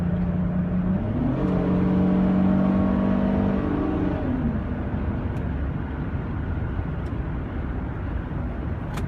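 A 2005 Chrysler Pacifica Touring cruising at 60 mph: a steady low engine and road drone fills the cabin, with a tonal whine that rises and falls once early on, continuous and fairly loud throughout.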